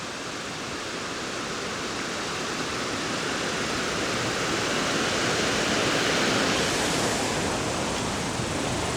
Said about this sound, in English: looking upstream here, there are several small waterfalls